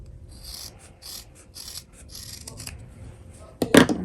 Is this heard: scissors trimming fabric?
yes